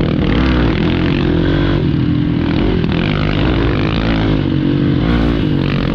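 Hero Xpulse motorcycle ridden fast on a jungle trail, its engine droning loudly and steadily with wind rush and clattering throughout, no voice over it.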